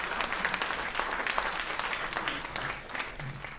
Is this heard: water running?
no